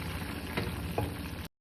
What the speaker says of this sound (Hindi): दाल को गर्मा गर्म तड़का लगा देंगे।